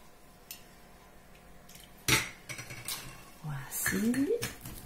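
Spoon clinking against a cup and liquid pouring as tablespoons of amaretto go into coffee, with a sharp metallic tap followed by a short trickle and gurgle, close and fairly soft.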